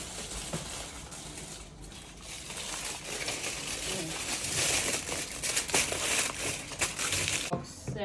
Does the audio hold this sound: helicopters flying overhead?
no